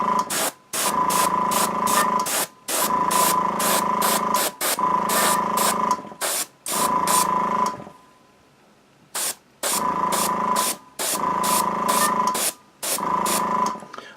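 An airbrush sprays paint onto a miniature for rust weathering, angled toward the back, in seven or so bursts of steady hiss, each lasting about a second or two, with a longer quiet gap midway.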